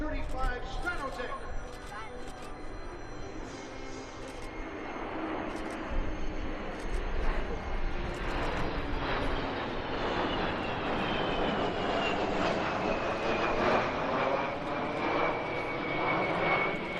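A KC-135 Stratotanker passes at an air show, its jet engines producing a sustained broad roar that swells and shifts in pitch as it goes by, with a faint voice underneath.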